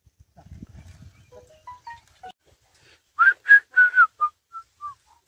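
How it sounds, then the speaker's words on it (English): A person whistles in a series of sharp, rising-and-falling blasts to halt oxen pulling a plough, following some soft handling noises and lighter whistled notes, with no talking. "When I whistle, they stop."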